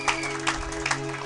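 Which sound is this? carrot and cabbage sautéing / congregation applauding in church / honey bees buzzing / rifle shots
congregation applauding in church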